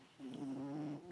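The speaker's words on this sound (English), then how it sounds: "Snoring up a storm." A sleeping male cat snores in a close, steady drawn-out breath with a low rumbling tone, a single snore filling most of the moment.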